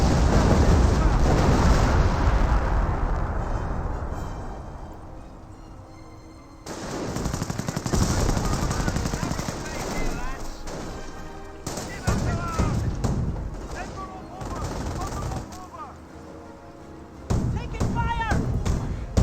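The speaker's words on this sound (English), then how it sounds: "And here comes the officer artillery." Artillery shells and gunfire from a Company of Heroes battle burst in repeated heavy booms and rattling volleys, loud and dense throughout, with a commentator talking over the combat.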